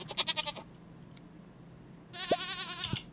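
Sheep in the farming game Stardew Valley bleat twice, short wavering cries separated by a pause, heard fairly close and clear with faint game clicks in between.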